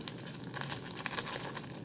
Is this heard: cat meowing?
no